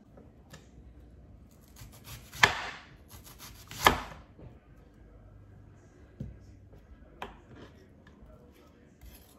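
Onion being chopped on a board for guacamole in a home kitchen, with two loud knife strikes and a few lighter cuts scattered among soft scraping, close up with faint background noise.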